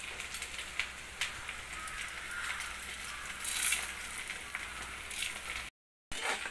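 Urad dal and reddened chilies fry in hot oil for a radish chutney, giving a soft, steady crackling sizzle with a few sharper pops and a brief silent gap near the end.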